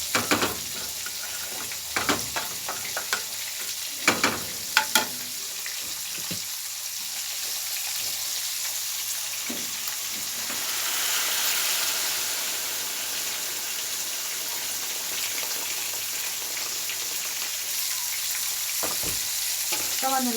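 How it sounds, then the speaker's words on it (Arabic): Rice frying in a pot for red rice, boiling water poured in and stirred, gives a steady close sizzle with scraping stir clicks and a brief gush of liquid midway, no talking. "الميه مغليه في الكتل، هزود له بقى الميه بتاعته"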